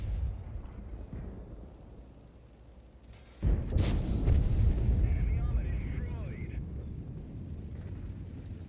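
Artillery fire and explosions in World of Tanks: a sudden heavy blast midway, followed by a sustained loud rumbling roar with whistling tones, over a quieter battle ambience at the start.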